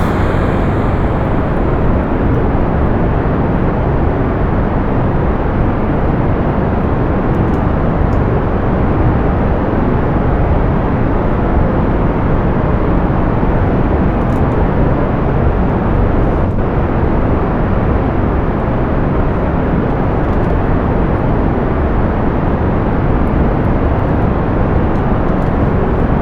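Rocket engine roaring continuously at launch in Kerbal Space Program, a loud, steady broadband rumble that holds without letup throughout.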